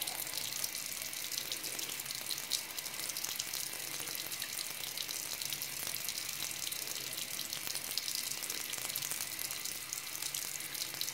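Steady broadband rush of water pouring from a tap, continuous and fairly loud throughout with no talking.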